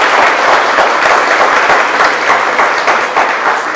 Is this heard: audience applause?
yes